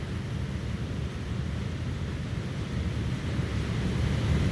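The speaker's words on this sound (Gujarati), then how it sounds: "જબ્બર પાણી જાય છે ખરેખર" Strong flow of the Tapi river, a dense, steady broadband rush of water with a windy, turbulent roar that stays even and fairly loud throughout, no voices.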